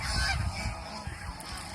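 Old domestic geese honk at a distance, a few faint low calls over quiet background noise.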